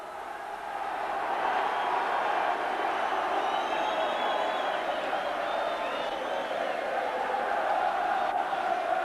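Dense, steady crowd noise fills a packed Old Trafford stadium before a rugby league final, a broad continuous roar with faint whistles and shouts rising above it and no clear voice on top.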